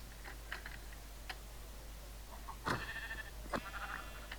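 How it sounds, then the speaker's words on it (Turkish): Sheep bleating in a survival video game, a few short calls over a steady low background hum, with clicking game sounds around them and no talk. "bir sürü koyun var"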